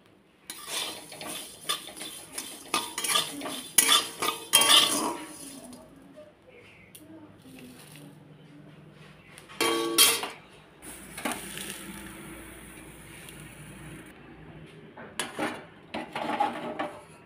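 A metal spoon scrapes and clinks against a pan while fried garlic is lifted out, in bursts of close clattering with quieter pauses and faint sizzling between.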